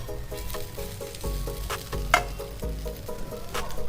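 Coriander vadis made from millet flour with a little gram flour frying in oil in a pan, a steady close sizzle with soft bubbling and occasional louder crackles and spatter pops, no talking.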